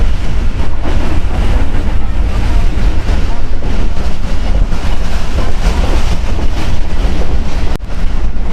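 Hazara Express passenger train running between Karachi and Havelian, heard inside a nearly empty coach: a loud, steady rumble and rattle of the carriage continuing throughout with no break.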